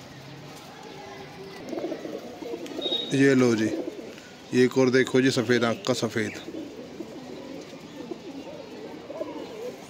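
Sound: pigeons cooing

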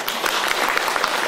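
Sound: audience applause

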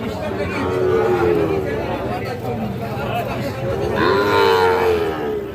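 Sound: Gir breed cattle at a livestock market

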